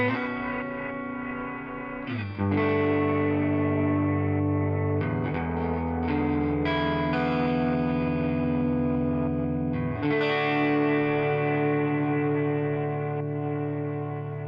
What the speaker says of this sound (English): The guitar is cutting through the reverbs lovely.